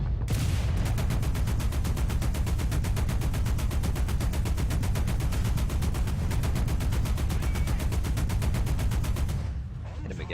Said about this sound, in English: Oh, I want to shoot him down so bad.